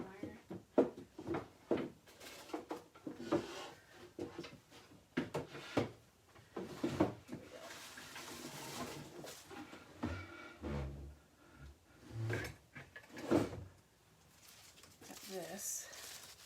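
Drawers slide open and shut with soft knocks and rattles during a search through a craft room, the bumps scattered and close under ongoing speech from a woman.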